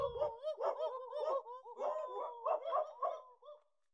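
People mimic dogs with a rapid series of yapping, bark-like vocal bursts, close and fairly quiet, repeating in quick uneven clusters before trailing off.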